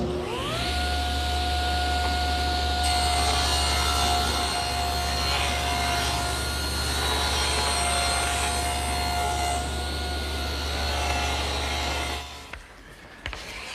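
A table saw rips along the edge of a wooden board in a woodworking shop: a loud, steady motor whine with the rougher sound of the blade cutting, running continuously before spinning down near the end.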